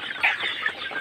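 Sonali and deshi hens cluck close by in a couple of short, sharp bursts over a faint farmyard background.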